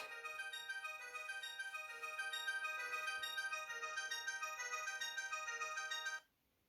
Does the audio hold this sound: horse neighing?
no